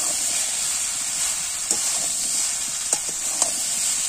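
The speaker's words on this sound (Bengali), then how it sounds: "এটা খানিকটা মশলাটার সাথে ভালো করে করে নেব, কষিয়ে নেব।" Bottle gourd and prawns sauté with spices in a pan, a constant soft hiss with a few brief scrapes and clicks of stirring over it.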